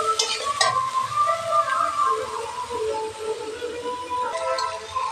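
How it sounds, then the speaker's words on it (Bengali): Dal and chickpeas stirred while frying in a pan, a continuous sizzle with scraping strokes of the spoon throughout, close and fairly loud. "এটাকে নাড়তে থাকবে।"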